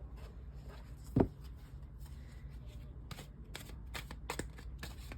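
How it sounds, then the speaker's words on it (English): Playing cards being shuffled during a tarot-style card reading, a sharp riffle burst near the start followed by softer shuffling and card handling, close and fairly quiet, with no talking. "Let's shuffle some more cards."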